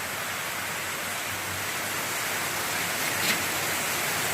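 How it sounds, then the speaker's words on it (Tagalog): Heavy, nonstop rain pours down outside a farmyard where turkeys are kept, making a dense, even hiss that never lets up, with no voices over it. "sobrang ulan dito sa amin. Simula gabi hanggang ngayon, ulan, walang tigil."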